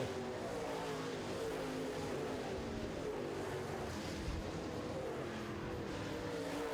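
Late model race cars roar around a track in a steady, dense engine drone that stays loud and continuous throughout, with no talk over it.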